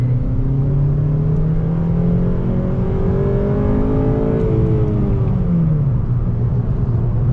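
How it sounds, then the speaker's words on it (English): A stock 2009 eighth-generation Honda Civic Si engine revs hard into VTEC in fourth gear on a night drive, a loud, close, steadily climbing whine and rumble with rising harmonics that drops off near the end. "Into the VTEC right in the fourth."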